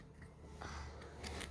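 Scissors snip through craft material for a homemade fidget toy, a few crisp close cuts in quick succession with no talking.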